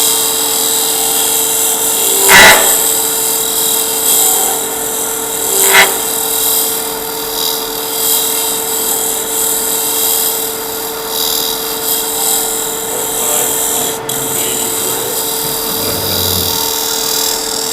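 Abrasive cutting with an 80 grit tool, a steady harsh grinding rasp held throughout with a constant whine, broken by two sharp louder bursts early on and quieter scraping toward the end.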